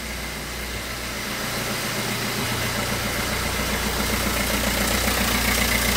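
A Fiat Punto engine, freshly running after a crankshaft position sensor repair, idles steadily up close with a rough, even rumble that grows slightly louder after the first couple of seconds.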